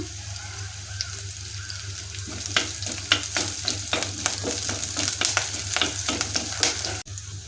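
Curry leaves hit hot oil in a pan for a South Indian rasam, setting off a crackling sizzle with sharp pops and stirring scrapes over a steady low hum, loud and near, then a sudden cut near the end.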